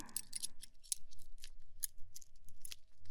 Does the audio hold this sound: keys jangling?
yes